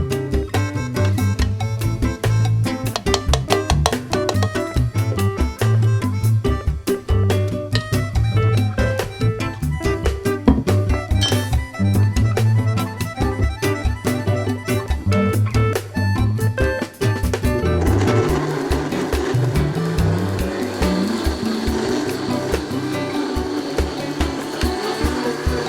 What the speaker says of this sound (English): put all your ingredients in the blender and add a little water and blend them